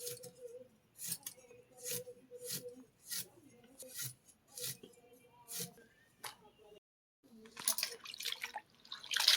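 Cut taro pieces are washed by hand in water for a prawn chorchori, giving rhythmic splashy scrubbing bursts, a short quiet gap, then more busy sloshing, fairly soft and close.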